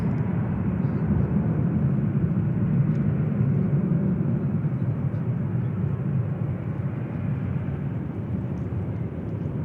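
A Ryanair airliner departing Manchester Airport gives a sustained, even roar of jet engines heard at moderate distance, steady for the whole stretch with no talk over it.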